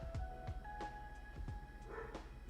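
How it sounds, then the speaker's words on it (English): A dog barks at something in the streamer's home during a live stream, a few short muffled barks and yips picked up faintly in the background by the microphone, spaced irregularly over a low hum. "My dog is barking at something."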